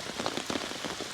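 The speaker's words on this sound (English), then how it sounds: "So yeah, it's absolutely pouring down." Heavy rain pours onto a tarp shelter in woodland camp, a dense, close patter of drops drumming steadily with no voices.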